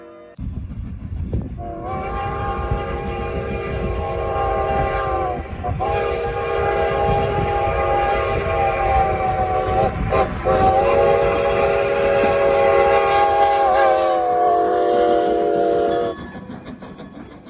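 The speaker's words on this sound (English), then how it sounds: "I like a lot of steam locomotive whistles, but if I had to pick one, I'd probably say Great Western 90's Reading 6 chime." The six-chime whistle of Great Western 90, a steam locomotive, blows loud and close in long sustained chords with a couple of brief breaks, over the rumble of the moving train.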